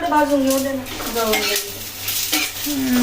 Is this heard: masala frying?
yes